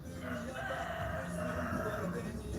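Roosters crow in a large park in Istanbul, their calls fairly faint and somewhat distant over a soft outdoor background, with no one speaking.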